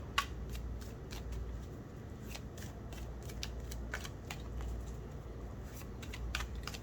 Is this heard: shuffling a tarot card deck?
yes